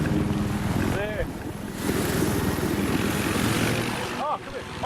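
Video game helicopter: a continuous loud rotor and engine drone with a chopping pulse that holds steady throughout, while a person talks over it.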